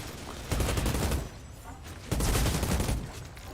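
Outriders gunfire comes in two loud bursts of rapid automatic shots, each lasting about a second, close up and dense.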